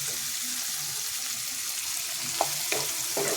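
Green chilies hit a hot frying pan of vegetable curry, producing a steady, close sizzle with a few light utensil clinks and stirring taps near the end.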